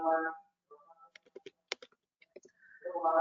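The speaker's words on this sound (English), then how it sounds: "You just type it" Short bursts of clicky computer keyboard typing, close and crisp, with a voice briefly heard just before and just after the keystrokes.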